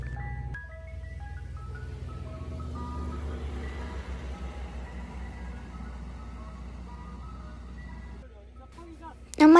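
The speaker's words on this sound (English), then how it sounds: "this video is about me getting ice cream from the ice cream truck" An ice cream truck in Philadelphia, Pennsylvania plays its tinkly jingle over a steady idling engine rumble, heard from nearby outdoors, ending in a sudden loud burst.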